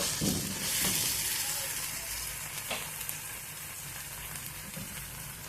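Tomatoes cooking in a pan for a roasted eggplant curry give a soft, steady sizzle with faint stirring scrapes, quiet and close, with no talk.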